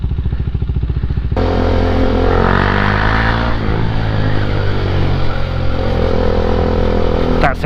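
A motorcycle fitted with a new exhaust pipe rides along on the way to Dover Castle, its loud close engine thrumming steadily with rising revs and a gear change, dominating the whole stretch.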